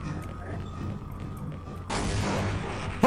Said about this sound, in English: Man, I almost blew myself up there.